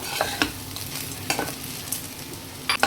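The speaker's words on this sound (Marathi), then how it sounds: "आपण हा भात चांगला मिक्स करून घेऊया." A spoon stirs cooked raw mango rice with ghee in a pot. Several sharp scraping strokes land over a low, steady sizzle, close up and with no talking.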